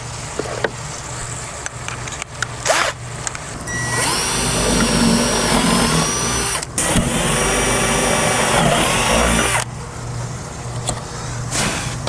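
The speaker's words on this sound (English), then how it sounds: "We'll just drill through the wood, and then we'll drill another one up there" A power drill bores holes through wood near a pool equipment setup, two long loud whining bursts of drilling separated by brief pauses, with short clicks and trigger taps around them.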